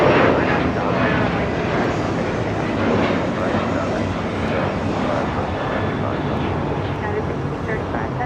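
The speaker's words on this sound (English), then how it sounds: "Parade of private jets over here on Alpha." Private jets taxi along taxiway Alpha at LAX, producing a continuous broad jet-engine roar and whine that stays steady and moderately loud throughout, heard from a distance across the airfield.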